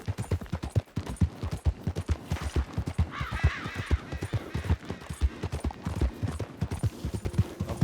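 Horse hooves clip-clop steadily and close in Red Dead Redemption 2, a rhythmic trotting beat with faint bird caws in the background and no talk.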